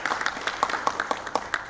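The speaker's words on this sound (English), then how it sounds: "Round of applause for him." A small audience at a sales summit gives a brief, light round of applause, a sparse scatter of individual claps over less than two seconds.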